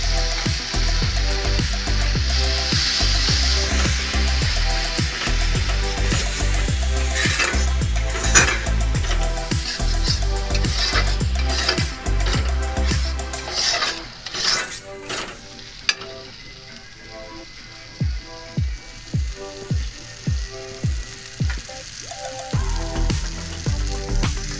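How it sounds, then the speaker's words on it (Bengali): Cashew paste and masala sizzle and fry in a pan for paneer masala, with steady loud frying and scraping stirs, then quieter sputtering and repeated spoon taps against the pan toward the end. "ভালো করে কষিয়ে নিব"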